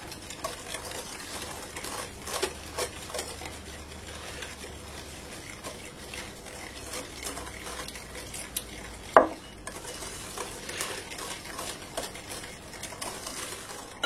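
Orange juice being stirred into a creamed butter and sugar batter in a bowl, soft continuous mixing and scraping with occasional light clinks of the utensil against the bowl and one sharp tap.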